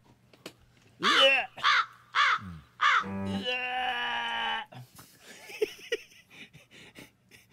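A person's voice imitates a crow cawing: four short, hoarse caws in quick succession, then one long strained drawn-out call, followed by softer scattered breathy noises.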